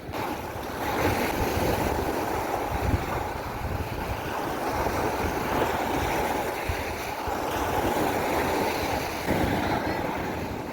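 Ocean waves crash and wash continuously at Maliya beach in Kuwait, a broad rushing roar mixed with wind buffeting the microphone, steady and fairly close.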